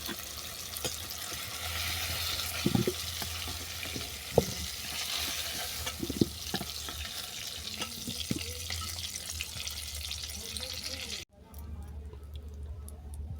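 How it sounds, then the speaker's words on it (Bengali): Pumpkin pieces fry in hot oil for kumror chokka, a continuous close sizzle with occasional stirring clicks that ends abruptly and drops to a quieter background near the end. "কুমড়োটাও ভালোভাবে ভাজা হয়ে গেছে"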